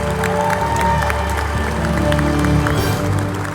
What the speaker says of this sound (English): Please join us for a round of applause for 2018 inductee, Webb Wright.